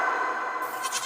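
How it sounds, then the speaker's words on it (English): A goat bleats in one sustained, wavering call, clear and moderately close, standing alone without speech. "G for goat."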